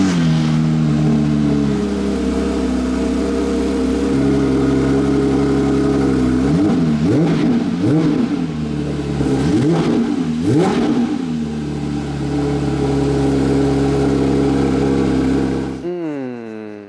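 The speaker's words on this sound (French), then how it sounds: "Mais une chose est sûre, c'est une Porsche. Il y a eu le démarrage du flat 6." A Porsche flat-six engine starts and revs loudly and up close, holding a steady idle before two bursts of sharp rising-and-falling revs, then cutting off abruptly near the end.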